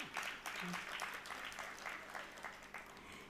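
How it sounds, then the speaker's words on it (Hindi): Faint applause from a class audience in a room, with claps landing in a loose, steady rhythm. "आप अपने लिए तालियां बजा लो।"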